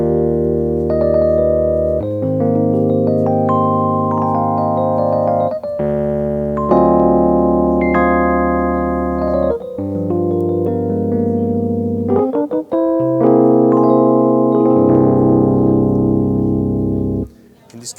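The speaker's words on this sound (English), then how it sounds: "The electric modeling is the name we've given to the electric piano, and based on a physical modeling technology." Studiologic Numa X Piano at Superbooth 2021, its physically modeled electric piano playing a sequence of sustained chords and melodic notes with bell-like tone, clear and up close.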